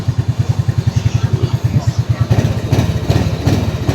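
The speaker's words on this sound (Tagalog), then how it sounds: "bigla na lang daw naging palyado" An Easyride 150 fi 175cc motorcycle idles up close with a loud, uneven pulsing beat that stumbles and misfires, its throbbing rhythm faltering toward the end.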